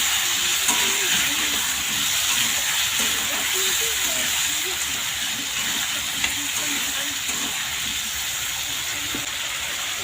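Water poured into frying spice paste for a fish-head cucumber curry sets off a steady, loud hiss of steam and sizzle that holds throughout, with faint voices underneath.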